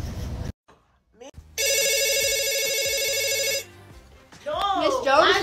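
A telephone bell rings loudly in a sustained, rattling trill for about two seconds, framed by speech before it and a high excited voice right after.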